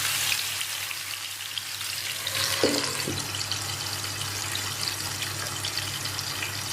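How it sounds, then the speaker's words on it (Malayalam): Chicken fries and browns in a clay pot for biryani, a steady close sizzle with a brief clink partway through and no talking. "2 സൈഡിലൂടെ ഒരു ബ്രൗൺ കളറാവുന്ന വിധം നമ്മൾ എന്ത് ചെയ്യുക, ഫ്രൈ ചെയ്തെടുക്കാം"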